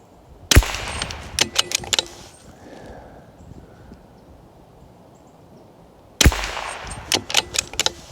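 Rifle shots from an Anschütz-Accuracy International Fortner 1727F rifle: loud crack, a quick run of shots, a long pause, then another burst, each followed by short clanks and rattles.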